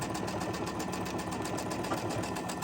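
A sewing machine runs steadily while stitching quilt fabric, giving a fast, even mechanical whir and rattle that carries on without a break, close up and alone with no talking.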